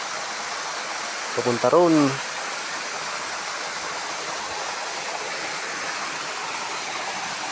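A waterfall pounds into a deep pool, a steady broadband roar of falling water that fills the whole clip, with someone speaking briefly over it near the start.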